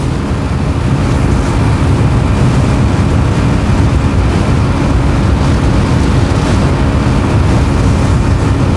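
Bajaj Pulsar NS160 BS4 160cc motorcycle running near its top speed with a pillion rider, a constant heavy roar of wind blast over the rider swamping the engine, loud and unbroken throughout.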